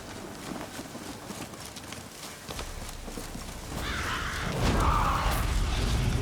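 A horse gallops in the video game The Witcher 3 through a forest, its hoofbeats running as a steady, continuous drumming that grows louder and fuller toward the end.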